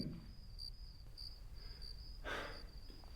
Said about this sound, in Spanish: obviamente esos grillos no son un sonido de transacción exitosa